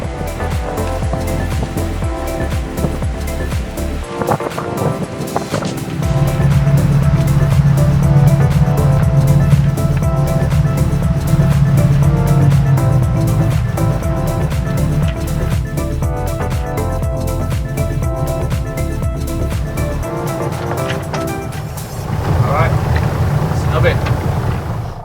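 A sailboat motoring with its head sail up in 15 knots of wind, a loud continuous engine drone mixed with rushing wind and water noise, steady throughout with voices talking over it.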